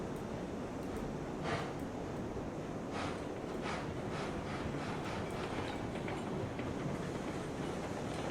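A locomotive in the railroad game RailRoads Online rolls slowly along the track, its steady low rumble carrying faint rhythmic clicks and occasional soft knocks, with no voices present.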